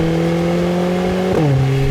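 A Lotus Emira sports car engine holds a steady rev with strong harmonic tones, then dips sharply near the end as a subtle pop breaks in, loud and close throughout.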